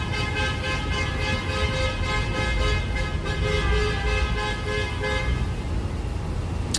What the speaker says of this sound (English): You can see, you can hear a lot of the beeping.